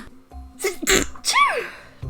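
A single loud sneeze, with a sharp inhale and explosive burst, close to the listener, followed by a brief sniff.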